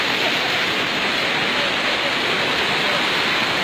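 Floodwater rushes through a flooded village in a steady, loud, dense roar that never lets up, with no other sounds standing out.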